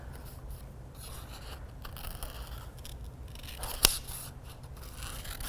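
Scissors snip steadily through craft paper for a Halloween surprise ball, a soft continuous rasping cut close up with one sharper snip near the end, no voices.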